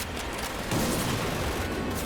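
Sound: grenade explosions and gunfire in the video game Medal of Honor Pacific Assault

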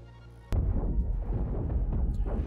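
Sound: flak cannon turret hits in the video game Cosmoteer

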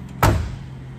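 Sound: car door closing on a 1972 Oldsmobile Cutlass Convertible

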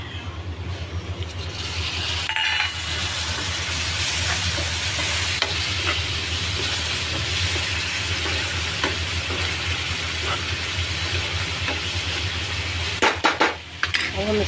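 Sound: spices and chopped tomatoes frying in pan for poha

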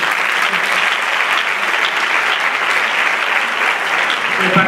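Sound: audience applause at a gala

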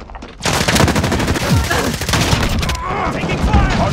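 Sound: gunfire in a Call of Duty video game

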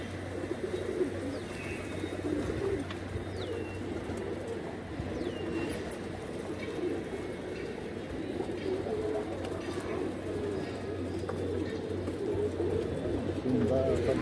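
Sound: pigeons cooing and landing

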